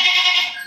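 A Hyderabadi Nasi male goat lets out one short, loud, nasal bleat right up close, with nothing else around it.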